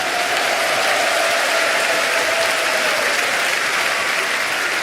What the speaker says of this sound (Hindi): जरा एक बार दोनों हाथ उठाकर तालियां